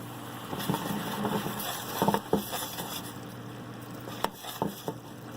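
Water hisses and sizzles in a hot pan, a steady crackling patter with a few sharper clinks and scrapes, close by and without talk.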